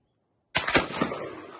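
An Enfield Pattern 1914 rifle fires a single sharp, loud shot after a moment of silence, followed by a short echoing tail.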